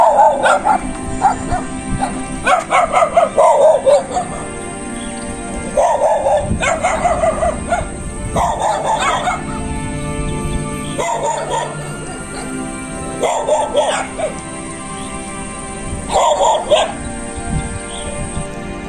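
Several dogs bark and yip in repeated bursts near a cliffside road at a dead end, loud and close, with short pauses between volleys and a voice speaking over them.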